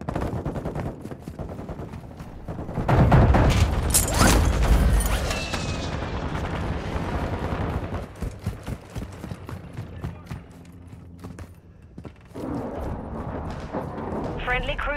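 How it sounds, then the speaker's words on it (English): Airstrike explosions and heavy gunfire in the video game Call of Duty: Modern Warfare II, a loud booming burst early on followed by scattered shots and rumbling blasts, with voices calling out over the battle. "Friendly airstrike in the AO."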